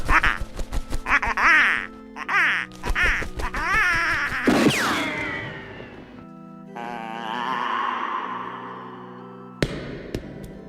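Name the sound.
duck quacking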